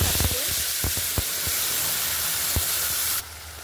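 Spice paste hitting well-heated oil with whole cumin in a pan, a steady broadband sizzle and hiss with a few sharp pops and stirring clicks, close and continuous before cutting off abruptly near the end.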